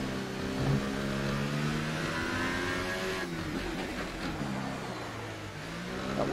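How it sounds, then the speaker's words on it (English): The McLaren F1 car engine in the video game F1 2018 at the Monaco Grand Prix screams loud and close with rising and falling revs through gear shifts, plus a brief tire squeal, and no talking. "That engine sounds so broken,"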